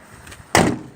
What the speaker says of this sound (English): Door shuts.